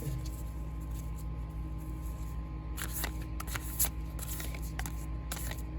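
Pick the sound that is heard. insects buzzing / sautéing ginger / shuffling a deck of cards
shuffling a deck of cards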